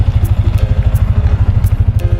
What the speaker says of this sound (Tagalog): Sound check natin pala yung sound check natin mga amigo yung makina.